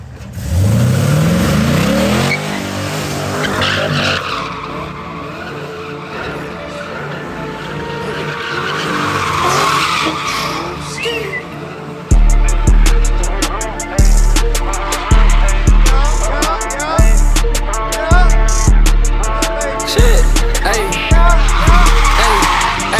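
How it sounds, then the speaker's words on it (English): A Pontiac G8 at a California street sideshow sets its tires screeching with engine roar, then launches into a loud, rhythmic run of revving bursts close by, with faint crowd voices underneath. "So we got the G8 just pulled up on us, man. Bro about to get active for us."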